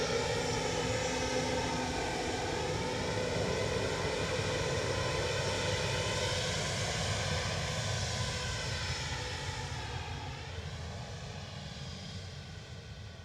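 Airliner on the Bristol flight passing at Dublin Airport, a steady loud engine roar with a slowly shifting whine that fades gently toward the end, no voices.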